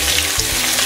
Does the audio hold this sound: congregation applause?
no